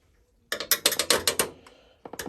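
Screws are being undone from a computer case during a Windows XP gaming PC build: quick bursts of close, sharp ratcheting clicks from a screwdriver, then a short pause and a few more clicks.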